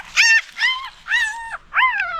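A newborn puppy found after rolling into a drain whimpers in four close, high-pitched cries of rising and falling tone, each about a third of a second, with no talking.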